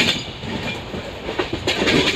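The 12805 Janmabhoomi Superfast Express runs across a bridge, a loud continuous rumble with rhythmic clattering of wheels heard from on board.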